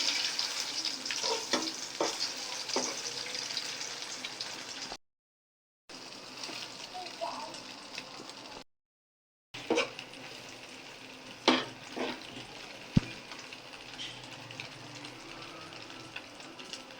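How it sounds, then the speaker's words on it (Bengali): An egg fries in a pan with a steady, close sizzle, broken by a couple of brief gaps and a few sharp clatters of a utensil. "তো একটা ডিম ভেজে নিল রান্নার ফাঁকে।"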